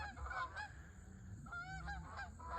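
A flock of geese honking repeatedly outdoors, the calls overlapping and somewhat distant, over a faint low rumble of background noise.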